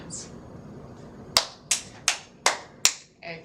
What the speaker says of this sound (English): Simon says, clap 5 times.